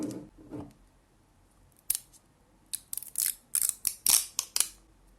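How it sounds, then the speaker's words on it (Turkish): A jar of brown tahini made from unhulled sesame is opened with a quick run of sharp, close clicks and snipping crackles that come in bursts and then stop. "Evet şu kavanozu açalım ve tadına bakalım"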